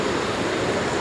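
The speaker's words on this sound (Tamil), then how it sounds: "அந்த குற்றாலம் தண்ணி வருது தெரியுமா, அந்த ஆற்றுக்கு வந்துட்டேன்." River water at Courtallam flows in a steady, close rush of broadband noise, with no voices.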